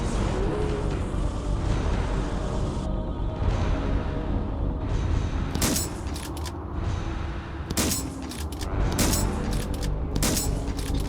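Gunfire from a fan-made Star Wars Deathtroopers video game, heard as a dense, noisy bed with sharp bursts of shots that arrive in short clusters of two or three, loud and close.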